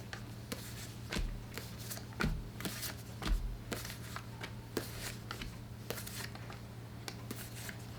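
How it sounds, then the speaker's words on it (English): Tarot cards being shuffled, a run of soft papery riffles and taps that comes and goes at close range over a quiet room with a low steady hum. "actually, they want me to shuffle one more time."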